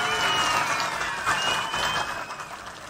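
Crowd clapping at a political speech by an Andhra Pradesh chief minister: a continuous, fairly distant wash of applause that holds steady for several seconds, then fades slightly.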